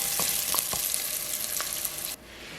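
Garlic sizzles and crackles in hot olive oil with salt in a pot, with a few soft stirring clinks, then the sizzle drops to a quieter hiss as the heat is turned low.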